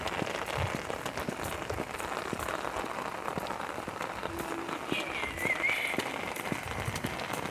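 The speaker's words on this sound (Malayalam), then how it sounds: "ഇപ്പോൾ മഴയാണ്, ഫുൾ യൂണിഫോമിൽ നനഞ്ഞ് ചീഞ്ഞ്" Heavy rain pours down in a dense, unbroken patter of drops striking the ground and nearby surfaces. The downpour stays steady at a moderate level throughout.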